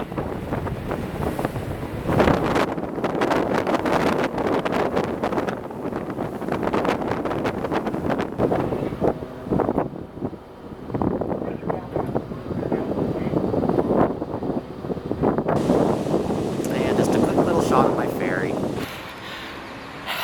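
Strong wind buffets the microphone in constant roaring gusts outdoors near San Francisco Bay, with the Golden Gate Bridge in view, with someone speaking through it.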